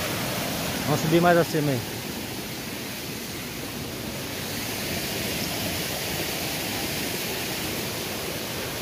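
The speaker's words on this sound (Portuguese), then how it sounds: "essa cachoeirinha, ela vem desse riozinho aqui, ó." A small waterfall at Cachoeira da Gleba in Sinop, fed by a tiny stream, rushes as a steady broadband wash. A voice speaks briefly near the start over the constant falling water.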